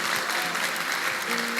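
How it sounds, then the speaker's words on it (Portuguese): Enthusiastic applause from a church audience, a steady roar of many hands clapping at once, loud and sustained throughout. "Dê o melhor aplauso que você pode dar a Jesus."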